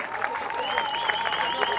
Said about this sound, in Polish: jeżeli tak, to przyklaśnijcie